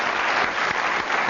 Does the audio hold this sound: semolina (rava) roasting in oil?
no